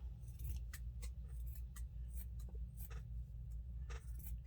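Scissors trimming a small craft piece for a Dollar Tree DIY fall gnome, a series of quick, crisp snips close up over a low steady hum, with no talking.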